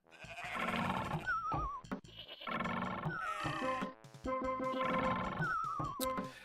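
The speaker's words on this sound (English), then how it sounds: "A variety of goat sounds, I guess." Repeated goat bleating from a DooM WAD video game level, three loud wavering bleats in a steady rhythm, close and dominant with game sound effects mixed in.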